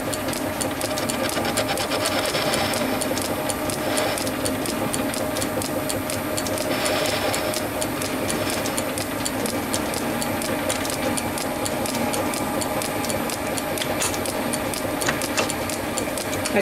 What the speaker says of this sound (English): I'm probably just going to machine the ends of this.